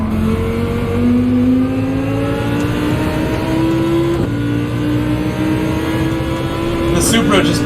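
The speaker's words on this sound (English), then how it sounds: "The Supra just bearing down on me." A Toyota Supra race car engine in the Gran Turismo racing game, revving steadily upward through the gears as it closes in, loud and droning with a quick shift midway, while someone talks over it.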